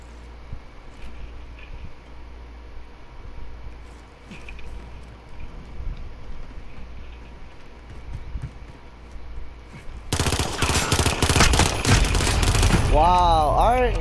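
Rapid bursts of machine gun fire in a Call of Duty Modern Warfare match erupt loud and close in the final seconds, following a stretch of low background game ambience.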